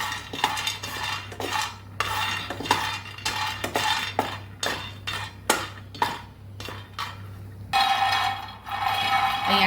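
Peanuts and sesame seeds roasting in a pan for stuffed sweet-and-sour chillies, with repeated scraping and clinking of a spoon against metal and a steady low hum underneath, close and moderately loud, with no talking.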